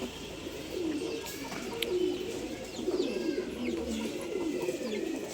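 Pigeons cooing repeatedly in a loft where male birds are kept for sale, soft rolling coos rising and falling close by over steady background noise, with scattered chirps and no talking.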